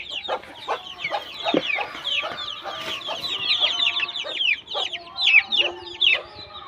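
On a poultry farm, a hen clucks repeatedly up close in uneven bursts, while a dense chorus of high chick peeps chatters continuously around her.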